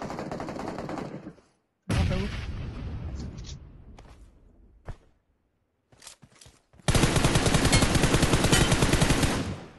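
Bursts of rapid automatic gunfire in the mobile shooter game BGMI, several clustered volleys separated by short gaps, loud and close with no talk over them.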